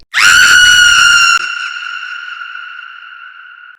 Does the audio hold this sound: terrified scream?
yes